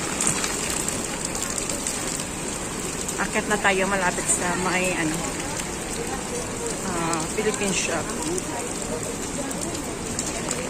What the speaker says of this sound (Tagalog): it's raining day.